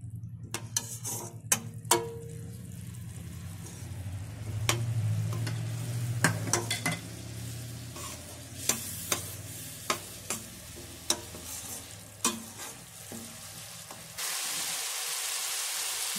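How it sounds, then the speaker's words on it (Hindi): Masala fries on a full gas flame in a pan while a spoon stirs it, giving a low steady sizzle broken by repeated sharp scrapes and clinks against the metal, ending in a brighter hiss near the end. "ये देखिए अब हम अपने मसाले को अच्छी तरह से पका लेंगे"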